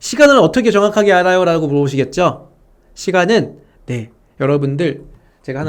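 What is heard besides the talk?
No everyday noises stand out.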